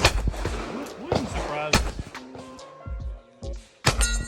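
A revolver chambered for .410 shotgun shells and .45 Long Colt fires several sharp shots at an outdoor range, with other guns popping nearby and faint talk between the reports.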